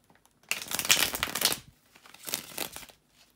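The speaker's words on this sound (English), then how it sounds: "bear with me a second, guys, to shuffle the tarot cards" Tarot cards shuffled by hand at close range, heard as a long papery riffling burst followed by a shorter second burst, with quiet pauses around them.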